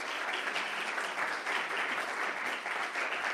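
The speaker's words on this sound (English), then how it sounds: "A big applause for them." Audience at a panel discussion on Switzerland and the European Union applauding the panelists, steady dense clapping filling the room from start to finish with no voices.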